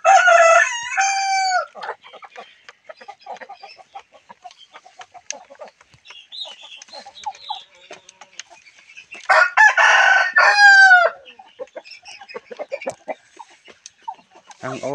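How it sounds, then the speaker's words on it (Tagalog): Native roosters crow loudly twice, roughly eight seconds apart, while native hens cluck and scratch in between at a farmyard distance. "sarap na sarap po ang ating mga manok."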